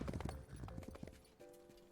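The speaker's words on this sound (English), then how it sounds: "You control the movement of Hachiman's horse." Hooves of a horse in a video game, ridden by the character Hachiman, clop in a quick, uneven galloping rhythm that thins out toward the end.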